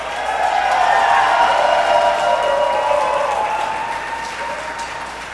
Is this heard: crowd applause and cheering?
yes